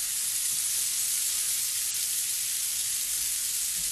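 Onions and peppers sizzle in a frying pan with a steady, close, even hiss that holds without a break.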